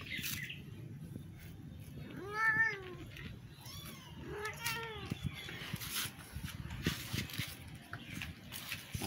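Several cats meow in a room, with clear harmonic calls around two and five seconds, more faint mewing after, and a steady background noise underneath.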